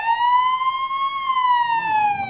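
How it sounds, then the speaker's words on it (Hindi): An ambulance siren wails in a steady rising and falling tone, loud and close, sounding alone throughout with no talk over it. "पूरे फर्स्ट एड के सामान के साथ एम्बुलेंस रवाना करो"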